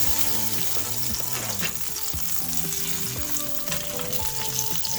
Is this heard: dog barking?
no